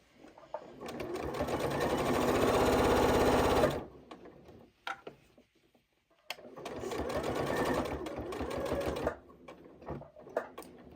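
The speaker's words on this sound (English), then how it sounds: "Again, stitch down to the next dart." A Janome 8200 QCP sewing machine stitches a fabric bowl cozy in two close, steady bursts of rapid whirring, with a pause between them filled with small handling clicks and rustles.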